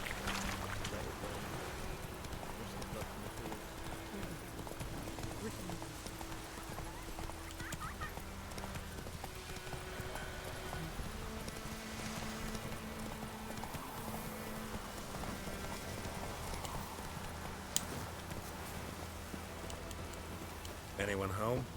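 Steady clip-clop of horse hooves from the video game The Witcher 3 runs continuously under someone talking, with a soft outdoor ambience behind.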